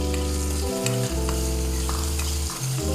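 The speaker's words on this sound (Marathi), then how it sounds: "सो आमी आतां दाळ घालया." Lentils (dal) hit a hot pan in a Goan ridge gourd bhaji and sizzle loudly and steadily, close up, with stirring scrapes mixed in and no talking.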